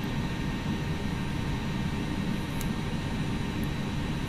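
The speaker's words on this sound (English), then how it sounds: "Engine available, we have a good start on that engine." An Airbus jet engine in the X-Plane flight simulator runs up after start, a steady, dense broadband roar with a low rumble that holds evenly throughout, with a couple of faint high clicks.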